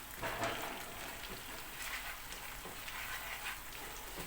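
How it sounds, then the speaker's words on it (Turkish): Tomato paste and peppers fry in a pan with a steady, quiet sizzle and crackle, occasional soft stirring scrapes showing through the continuous hiss. "Bunu iyice ben kavuracağım, suyla açacağım."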